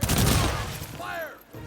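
A musket volley fired by troops in the strategy game Humankind, a dense burst of many shots at once that rolls out and fades over about a second, with a short tonal game cue after it.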